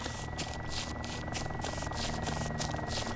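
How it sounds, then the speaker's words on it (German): A helicopter flies overhead in the video game DayZ Epoch, its rotor chopping loud and continuous with a steady rhythmic thump. "Kommt der Heli wieder? Der landet hier irgendwo."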